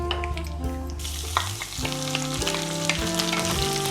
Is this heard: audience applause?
no